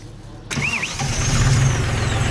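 A 40-horsepower outboard engine cranks and catches after a short quiet moment, then runs with a steady rumbling idle, close by.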